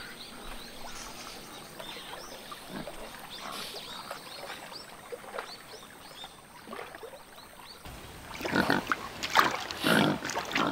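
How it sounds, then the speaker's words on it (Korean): A wild boar wallows in a mud bath at the edge of a reservoir. Soft wet squelching and splashing grow into louder, vigorous sloshing toward the end, with no talk. "저수지 한켠에서는 멧돼지 한 마리가 겨울을 앞두고 진흙 목욕에 열중하고 있다."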